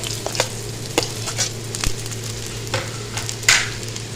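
Finely chopped onion softens in a little oil in a pan, giving a low steady sizzle with scattered scraping taps of a spoon stirring, moderately close and without talk.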